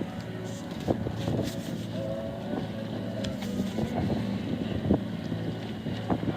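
A low sailboat engine drone runs steadily beneath gusting wind rumble and occasional knocks and creaks, as the boat motors along off Corsica.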